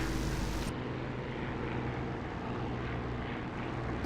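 Propeller aircraft engine droning in a flight sim, with the throttle pulled right back and the canopy open: a loud, steady, broadband roar, with a brighter rush at the very start that drops away.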